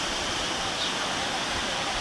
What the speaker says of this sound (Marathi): धबधब्यावर